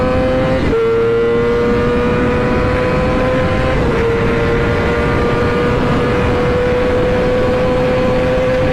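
Loud, sustained Kawasaki motorcycle engine during a police chase, its steady high whine climbing in pitch with a brief shift partway through, close and continuous.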